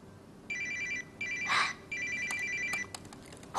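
A telephone rings in three repeated electronic bursts late at night, fairly clear and steady, with a short noise between the second and third rings and no talking.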